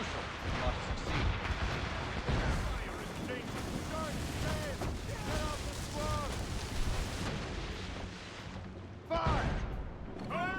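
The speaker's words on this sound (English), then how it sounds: "Make good use of your own mortars, Shay" Ship-mounted mortars firing in the naval combat of Assassin's Creed Rogue: a run of deep booming blasts over wind and sea, then a sharp loud report near the end, with faint voices underneath.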